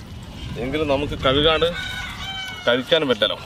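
Chickens cluck and a rooster crows on a farm in Dubai, loud and close, with repeated crowing bursts while someone talks over part of it.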